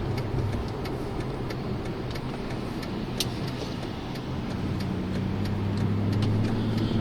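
A Mercedes CLK63 AMG V8 drums steadily from inside the cabin while driving in comfort mode, a dense, even engine and road hum with faint clicks, moderately loud and without talk.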